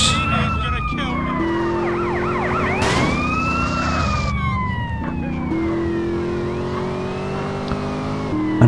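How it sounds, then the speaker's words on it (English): An ambulance siren in Grand Theft Auto: San Andreas wails in repeated rising and falling sweeps over a steady in-game car engine drone, loud and continuous for the whole stretch. "Is this ambulance by the street or something?"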